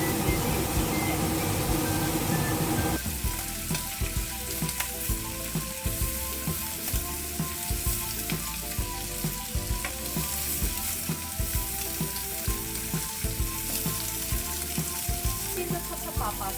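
Yuzu honey pork spare ribs pan-fry in a wok with a loud, continuous sizzle, broken by regular scraping ticks from stirring and turning the meat, close up with no talking.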